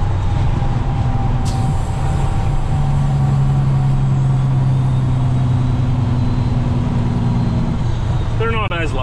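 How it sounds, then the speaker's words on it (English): An old semi truck's diesel engine drones steadily from inside the cab while driving, a low continuous rumble with shifting tones, and a brief rattle near the end. "The truck itself is running great."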